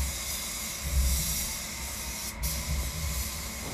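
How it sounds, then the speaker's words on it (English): An HVLP spray gun at about 2 bar lays a coat of clear on a silver BMW 320i, a steady close airy hiss with a low rumble beneath it and one brief sharper burst of air. "Here's our first coat of clear."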